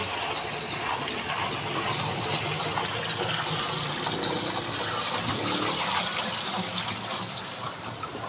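Water sloshes and churns loudly inside a running ice cream mixer, a continuous close rushing wash with a steady high machine whine, fading slightly at the end.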